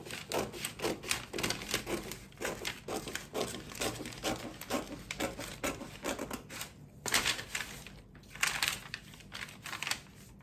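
Fabric for an off-the-shoulder turtleneck blouse is cut in a long, uneven series of close, crisp snips and rustles, with no talking.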